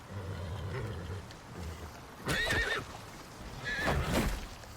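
A horse in the survival video game Icarus gives two loud, shrill whinnies a second or so apart, rising over a low, steady game ambience.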